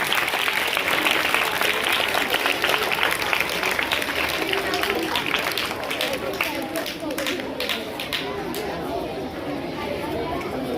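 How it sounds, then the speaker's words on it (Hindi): Loud, sustained applause from a crowd at a school welcome ceremony for prize-winning students, dense clapping filling the whole stretch with chatter mixed in. "जोरदार तालियां आपकी।"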